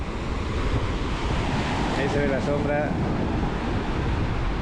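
Ocean surf at Playa Mamitas on the Riviera Maya, a steady broadband wash of waves mixed with wind noise on the microphone, while a voice speaks briefly over it.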